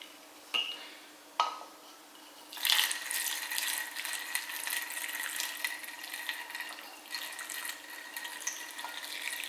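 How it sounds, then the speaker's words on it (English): Hot pickling brine poured over pressed cucumbers in a jar, a steady close liquid pour running for several seconds after two brief knocks, with no talk over it. "Then I'm going to pour the brine while it's still quite hot."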